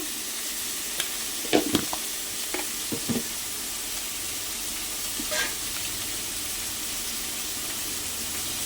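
Tomato, salt and turmeric stirred into a garlic curry in a pan, a steady background sizzle broken by a few scraping clinks of the spoon near the start and middle.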